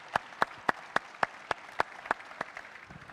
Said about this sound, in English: let's have a massive round of applause for all the speakers, all the moderators, and, of course, all the staff